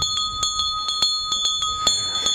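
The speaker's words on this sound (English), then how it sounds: "Ringing the bell for a merchandise preem." A hand bell clangs in quick repeated strokes at an outdoor criterium bike race, signalling a merchandise prime; the bright metallic rings come loud and close, one after another, with no talk over them.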